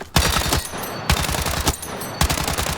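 Battlefield 6 submachine gun firing in several short, fast bursts separated by brief pauses, loud, close and crisp.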